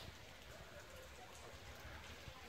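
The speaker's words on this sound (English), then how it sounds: "it's raining." Soft, steady patter of rain falling on a surface in Cuenca, Ecuador, faint and continuous with scattered drop taps.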